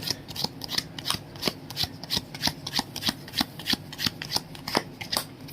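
A deck of dungeon-building game cards is shuffled by hand, a rapid series of crisp riffling bursts in a steady rhythm, close and fairly quiet with no speech.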